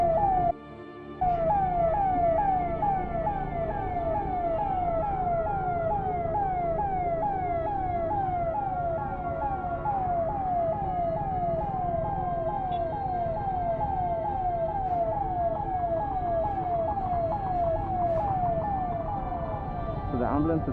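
An ambulance siren wails in a steady, repeating rising-falling cycle in traffic, loud and close, continuing throughout with a steady engine and road rumble beneath it.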